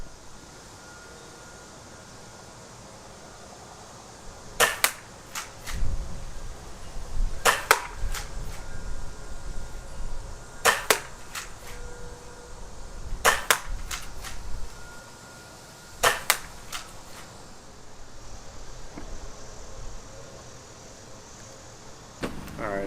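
XYL Unicorn foam blaster shooting Dart Zone Ruby darts at 30 feet: five sharp snapping shots at a few-second intervals, each a quick double crack followed by a short mechanical whir, over a low background hum, no talking.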